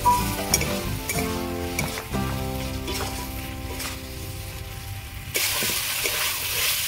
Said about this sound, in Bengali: এবার আমি ভেজে রাখা আলুগুলো দিয়ে দেবো। এবার কিছুক্ষণ আমি এইভাবে কষিয়ে নেব।